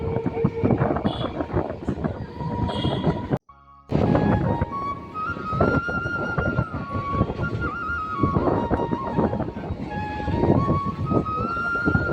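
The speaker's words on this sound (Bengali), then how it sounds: "বন্ধুরা আমাদের ট্রেন এখন চলে আসলো" A train rumbles and clatters steadily with wind buffeting the microphone, a brief dropout partway, and faint squeals as it rolls into Kalyani Ghoshpara station.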